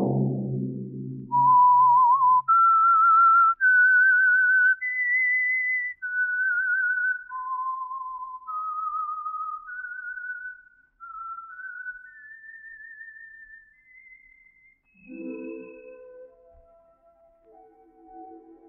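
A clear, melodic whistled tune plays alone as a 1947 radio show's signal theme, a slow sequence of sustained rising and falling notes, with brief music at the start and end.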